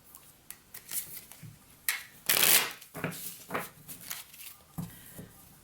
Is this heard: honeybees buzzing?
no